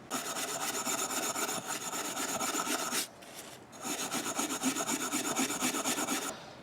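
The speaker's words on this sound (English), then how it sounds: "go over it with this scouring pad, and it will get off the worst of the rust" A scouring pad scrubs rust off a steel knife blade, a steady close rasping rub in quick back-and-forth strokes that breaks off briefly near the middle, then resumes.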